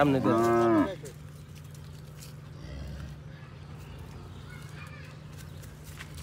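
A cow gives one loud, close moo on a cattle farm where a calf has just been born, followed by a quiet barn hum with faint movement.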